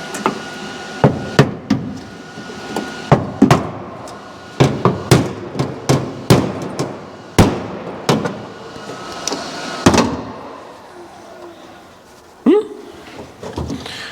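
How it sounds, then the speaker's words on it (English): Sharp, close hammer blows strike in irregular bursts, some in quick runs of two or three, with short pauses between and a faint voice at times. "fix that with a hammer"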